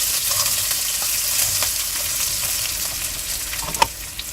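Green chilies and crushed peanuts fry in a pan with golden potatoes for sabudana khichdi, giving a loud, steady sizzle with occasional stirring clicks close by.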